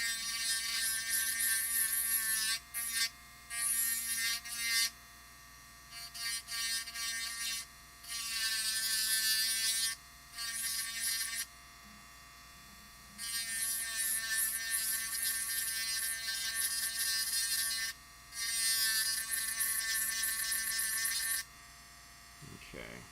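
A small Dremel rotary tool grinds in repeated bursts of high whining buzz, starting and stopping several times with brief quiet gaps, close and steady.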